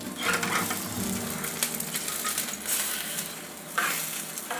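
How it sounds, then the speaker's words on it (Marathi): A flipped taco sizzling on a hot tawa, the dense crackle and hiss continuing near and steady, with a few scraping knocks of turning it; no voices are heard. "आपण पुन्हा एकदा हे टाकोज पलटवून घेऊ"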